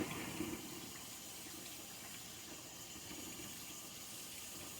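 Water runs steadily from a tap while homemade butter made from raw Jersey cream is rinsed and squeezed by hand. The stream makes a faint, even hiss that continues unbroken with no speech.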